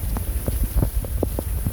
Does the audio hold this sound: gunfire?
no